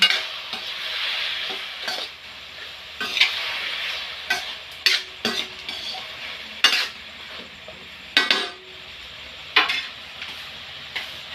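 Sponge gourd (patola) being stirred in a pan with a utensil: repeated scraping clinks and taps over a steady sizzling hiss, close up, with no voices.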